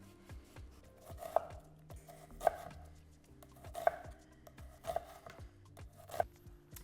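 Bell pepper and onion being chopped small with a knife on a board, a quiet close series of sharp taps about once a second with faint scraping between, no speech.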